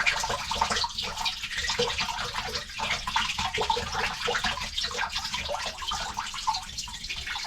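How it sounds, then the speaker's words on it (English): Water gushes and splashes steadily as it backs up out of a plugged kitchen sink drain, a continuous close, loud wash with no pauses. "the amount of water that's coming out of there"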